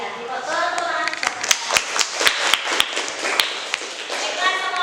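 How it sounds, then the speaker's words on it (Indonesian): Classroom applause from a group of children at a school lesson, a burst of scattered hand claps with sharp individual taps standing out, fairly close, mixed with some murmuring voices. "Ya, tepuk tangan."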